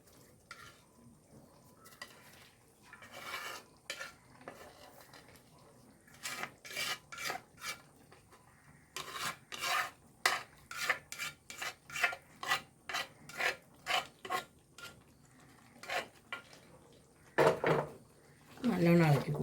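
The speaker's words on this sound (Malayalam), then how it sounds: "നല്ലോണം ഇളക്കി കൊടുക്കട്ടോ" Cooked chana dal is stirred into koottu curry in a pan, giving a long series of close, rhythmic scraping strokes that quicken and grow louder toward the end.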